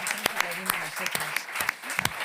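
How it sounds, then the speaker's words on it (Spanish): Audience applause at a European elections podcast event in Barcelona, a dense patter of claps running steadily throughout with a voice speaking over it. "os pido un fuerte aplauso para ellos, por favor."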